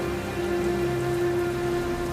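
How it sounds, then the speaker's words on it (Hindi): Heavy rain falls steadily in strong wind, a dense continuous wash of moderate loudness with no voices. "तेज हवा के साथ बारिश और उसी बीच बिजली कड़कने लगी"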